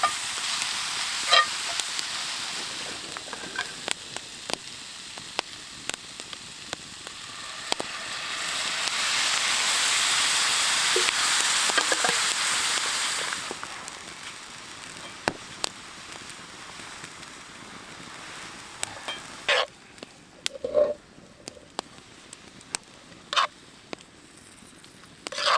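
Fajita vegetables sizzle over hot coals outdoors on a cold night, a soft hiss that swells for several seconds midway, scattered with sharp pops and crackles from the fire and no voices.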